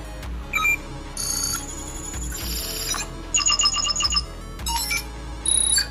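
A phone rings during an outgoing call placed through a SIM800L GSM module driven by an Arduino, a bright electronic ringtone in short repeated bursts with gaps between them, clear and close with no talking.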